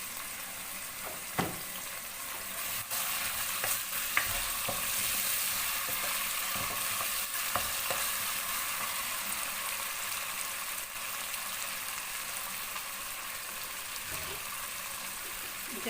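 Cumin, ginger and garlic paste frying in desi ghee in a pan, a steady close sizzle with faint crackles and occasional stirring clicks running throughout.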